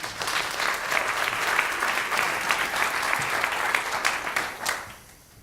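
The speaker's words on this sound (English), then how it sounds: "Please give him a warm round of applause." An audience applauds steadily for several seconds at a science-communication competition final, dense clapping that fades out at the end.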